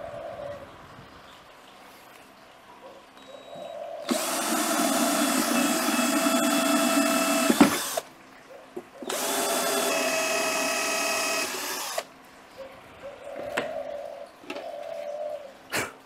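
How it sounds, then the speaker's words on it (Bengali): A power drill bores extra drainage holes in a bonsai pot in two loud, sustained bursts of about four and three seconds, separated by quiet pauses with faint background noise and bird coos. "আমি ফুটো আরও কিছু করে নেব।"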